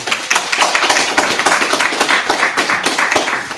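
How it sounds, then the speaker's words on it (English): At a mayoral forum, the audience gives a round of applause as a singer comes up for the national anthem. The claps are brisk, close and continuous, with individual hand strikes standing out. "Can we give our sister a round of applause?"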